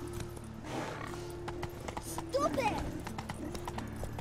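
Roach, a horse in The Witcher 3, gallops with a steady clip-clop of hooves and lets out a brief neigh midway, heard beneath a man's speech and ambient game sounds.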